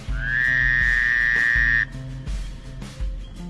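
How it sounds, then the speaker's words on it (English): Loud, close frog croaks pulse in a steady low rhythm through a rainforest scene, joined by a sustained high insect-like whine that cuts off partway through, with no speech. "Now listen closely and you can hear the sounds of the forest."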